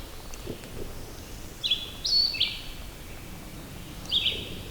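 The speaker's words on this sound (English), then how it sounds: "Birds are out singing." Wild birds sing in open Virginia woods beside a stream during spring turkey season, several short chirping phrases sounding faint and at a distance over a steady outdoor background hiss.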